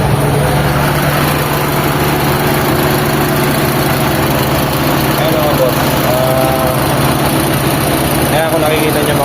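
A Mitsubishi Lancer engine with a faulty timing belt, newly overhauled, running steadily at idle close by, a constant loud mechanical drone with a faint rhythmic whine and chatter throughout.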